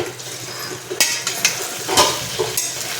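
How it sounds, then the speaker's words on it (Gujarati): Luni bhaji muthiya dough is mixed by hand in a bowl, giving close, uneven squishing and scraping with a few sharper knocks against the bowl. "બધું આપણે સારી રીતે મિક્સ કરી લેવાનું છે."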